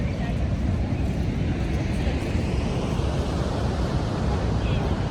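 Steady roaring water of Niagara Falls, a dense broadband rush at constant loudness throughout, mixed with wind buffeting on the microphone.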